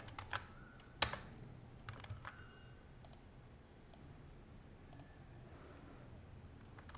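Brief keystrokes on a computer keyboard: a few close clicks near the start, then faint scattered taps over a quiet room hum, with no talking.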